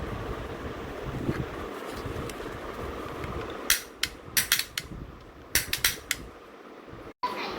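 A toy cap gun fires a quick run of sharp, snapping pops, clustered in two bursts after a stretch of quiet background noise, at a market in Visakhapatnam during Dhanteras.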